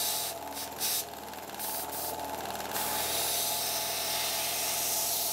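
A dual action airbrush on low compressor pressure sprays paint onto a fishing lure, giving a steady close airy hiss that flutters in short bursts for the first few seconds, then settles into a continuous even spray.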